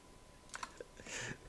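Keys tapped on a Razer computer keyboard nearby, a few quick separate clicks followed by a short burst of faster typing, quiet and alone.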